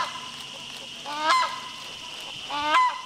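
Two loud honking calls from a hornbill with a hollow golden-yellow casque on its beak, in Malaysia, each a harsh rising then falling call, about 1.5 seconds apart over steady background ambience.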